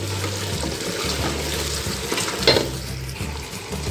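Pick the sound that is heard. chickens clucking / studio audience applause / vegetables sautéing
vegetables sautéing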